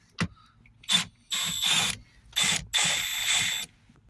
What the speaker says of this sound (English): we'll get these open with some T25 torque sockets